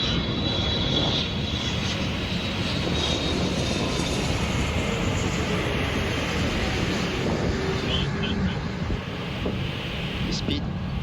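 Boeing 777 landing at Los Angeles, a loud, steady roar of jet engines and rushing air throughout, with wind buffeting the microphone and faint cockpit voices beneath.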